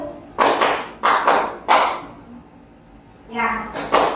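An ice-breaking clap pattern is led by a teacher in a school workshop: sharp, close hand claps come in quick pairs and singles, and a spoken voice follows.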